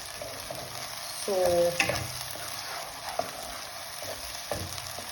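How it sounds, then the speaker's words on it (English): Onions frying in a pan for an egg malai curry, a fairly quiet sizzle broken by a few louder stirring scrapes and clinks, with a brief spoken word near the start. "Just fry the onions well."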